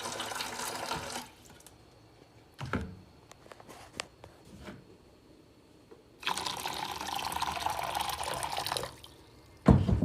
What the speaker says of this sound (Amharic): ትንሽ ለብ ያለ ውሃ ያረኩት